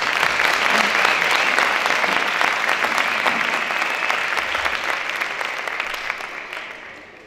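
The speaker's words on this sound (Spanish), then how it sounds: "Démosle un fuertísimo aplauso." At a 2017 Christmas carol contest in Jerez de los Caballeros, a crowd breaks into loud, dense applause that holds strong and then gradually tapers off.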